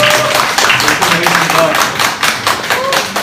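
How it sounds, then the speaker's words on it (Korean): Applause breaks out at an art fair's founding exhibition opening ceremony, close and loud, with distinct individual claps and taps in an uneven rhythm while people talk over it. "박수 좀"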